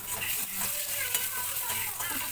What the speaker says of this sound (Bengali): এই বড়িটাকে ভেজে নেবো